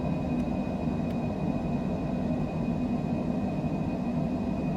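A Cessna Citation Longitude business jet climbs out after takeoff, heard as a steady, even cabin rumble with a faint high whine and no talking.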